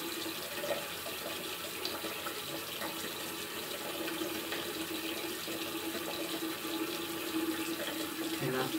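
Hot water runs steadily from a tap into a sink, a continuous close splashing hiss that lasts throughout at a moderate level.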